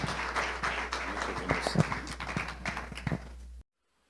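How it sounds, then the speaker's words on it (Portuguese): Congregation applause during a Portuguese-language evangelical church service, a steady moderate clatter of many hands that cuts off abruptly near the end. "Aplauda ao Senhor"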